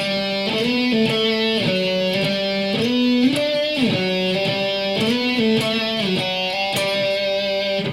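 A guitar plays a short repeating melodic phrase, notes plucked at a steady moderate pace, close and clear, with no talking.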